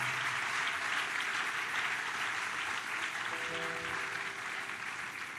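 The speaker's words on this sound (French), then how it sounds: "regardez votre voisin et acclamez-le" A church congregation applauds and cheers for the people beside them, a dense, sustained roar of clapping that fills the hall and fades slightly toward the end.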